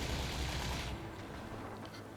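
Gunfire in Horizon Forbidden West, a burst of rapid shots over roughly the first second, then fainter, more distant crackles trailing off in the background.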